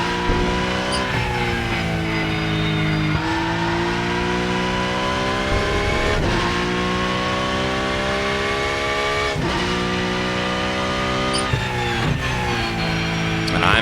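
Porsche Cup race car in the Rennsport video game at Spa, engine loud and constant, revving up through gears in repeated rising sweeps with abrupt shifts every few seconds, no talk over it.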